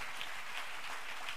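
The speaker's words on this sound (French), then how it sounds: "N'applaudis pour Jésus de Nazareth." Audience clapping during a church service in praise of Jesus, a brief, fairly faint wash of dense applause with no voices over it.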